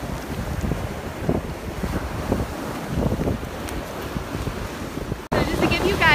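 Ocean waves wash onto a shell-strewn beach the morning after a storm, a steady close rush of surf mixed with heavy wind buffeting the microphone throughout, with a brief dropout near the end.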